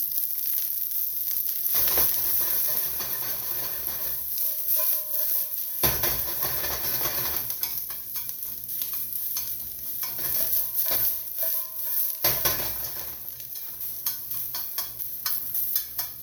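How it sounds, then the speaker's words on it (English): Onions caramelizing in a hot wok for beef lo mein, a steady loud sizzle broken by repeated clanks and scrapes of a spatula tossing them, with no talking. "We're going to caramelize these onions up in this nice hot wok"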